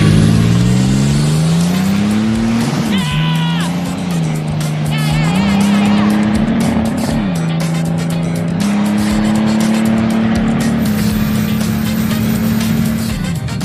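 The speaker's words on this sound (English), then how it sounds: "We're just going to do a quick little launch because that's all it could do right now." A turbocharged Typhoon launches down a drag strip, the engine roaring loud as it climbs through several gear changes, with tire squeal and a brief high whine over the steady rising drone.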